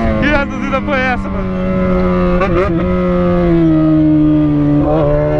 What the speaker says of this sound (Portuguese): Barulho da moto chega demais.